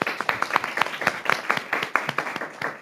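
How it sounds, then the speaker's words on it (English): An audience at a school board meeting applauds students from a VEX robotics team, a brisk, even run of close handclaps lasting a few seconds. "we want to give them a round of applause"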